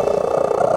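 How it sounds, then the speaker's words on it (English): A domestic cat purrs close up, a steady, loud, rumbling vibration with an even pulsing rhythm and no other sounds. "they've got records for loudest scream and loudest purr from a domestic cat."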